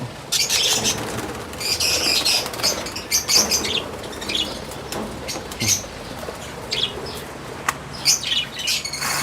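Small parakeets chirp and twitter busily while wings flutter in repeated bursts, close by, with faint background voices now and then.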